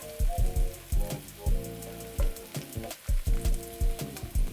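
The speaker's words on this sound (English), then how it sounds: "Let this saute." Beef masala ingredients sauté and sizzle in a pan, a steady crackling hiss broken by a rhythmic run of low thumps and clinks, close and with no talk.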